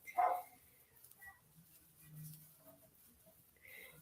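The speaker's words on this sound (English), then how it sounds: "Oh, the dogs keep going." Dogs barking somewhere in a home, one sharp bark near the start and a few fainter yips and whimpers scattered after it, quiet and a little distant, with no one speaking.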